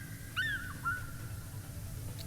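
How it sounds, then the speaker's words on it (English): Birds in PowerWash Simulator give a couple of short, bright chirps and a thin whistled call over a low, steady ambient bed, fairly faint and without talking. "The birds here are so noisy."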